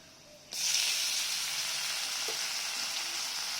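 Mushrooms drop into a pan of garlic fried to light golden brown, setting off a sudden loud, steady sizzle that stays strong and close after a quiet start.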